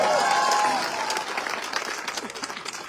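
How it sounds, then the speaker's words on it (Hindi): A crowd at a public outreach gathering at Khunkhuna station bursts into loud, dense applause that gradually thins into scattered claps over a few seconds. "बजाओ ताली।"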